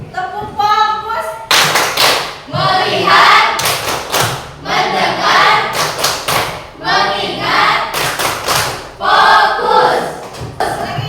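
Classroom students join in the 'tepuk fokus' clap game, sharp rhythmic group clapping in bursts alternating with chanted words from the teacher and class, loud and close.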